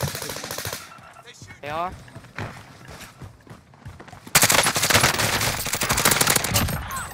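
Automatic gunfire in Call of Duty Warzone on Rebirth Island, with short bursts early on, then a loud sustained stream of rapid shots near the end, mixed with game effects while players talk over it.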